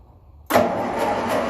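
A 1957 Ferguson 35 tractor with a TVO engine cranks over abruptly after a short quiet pause, giving a loud, steady mechanical churn that carries on without catching cleanly.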